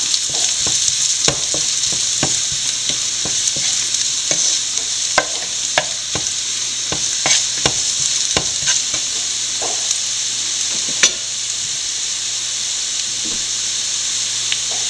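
Crushed dried red chili sautéing in a pan, a steady bright hiss of frying oil broken by frequent sharp scrapes and clicks of a spoon stirring throughout, with no voices.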